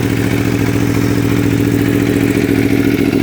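A 2019 Aprilia Tuono V4 Factory motorcycle engine running close by, a loud, steady, throbbing mechanical drone with no change in pace, heard alone.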